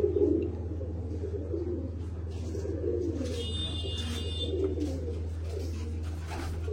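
Pigeons in a loft, birds sitting on their eggs, give soft cooing calls over a steady low hum that runs throughout, with no talking.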